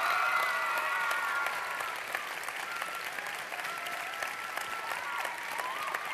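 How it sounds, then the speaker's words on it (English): Audience applauding after a live talk with the International Space Station, steady close clapping that eases slightly midway and carries on to the end. "Give him a big round of applause."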